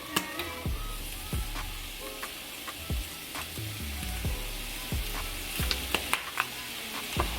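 Chili powder, onion powder and food sizzle in a frying pan, a steady crackling hiss broken by sharp clicks and scrapes of stirring, close and fairly quiet.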